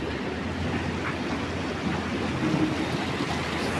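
The large Arun river, a Saptakoshi tributary, rushes beneath a bridge linking Pakhribas and Hatuwagadhi, giving a steady, loud broadband roar of flowing water with no voices over it.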